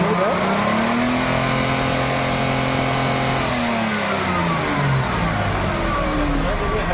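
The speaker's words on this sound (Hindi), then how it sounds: "और गाड़ी को रेस करो भाई जरा, तो इंजन हमारा कोई वाइब्रेशन नहीं इंजन में" A Nissan Datsun Redigo engine, just repaired for a misfire fault, is revved up and held, a steady close mechanical drone rising in pitch then settling back down, with faint talk in the background.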